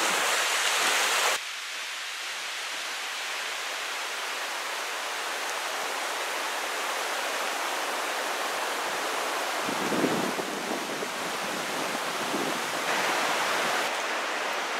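Fast, high stream water rushes past a campsite under strong wind gusts, a steady broadband roar that stays loud and continuous throughout, with brief surges of gusting air.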